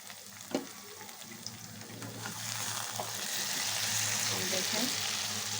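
Chicken with potatoes and bean seeds sautés in a pan, a close, continuous sizzle with scraping stirs and a small knock early on, the frying swelling louder and fuller toward the end.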